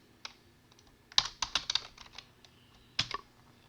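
Keys clatter on a computer keyboard as a name is typed into Octave Online, in quick irregular clusters of clicks with brief pauses, close and fairly quiet, with no voices.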